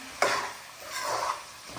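Duck meat is stir-fried for an Assamese-style curry: a couple of quick spoon-and-pan scraping strokes over a soft sizzle, close by and brief.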